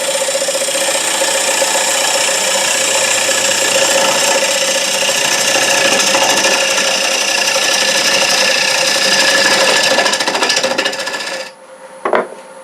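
A wood lathe spins while a cutting tool scrapes the recess of a turned paten, a loud, steady close-up rasping whine with a constant hum that cuts off abruptly near the end, followed by a brief knock.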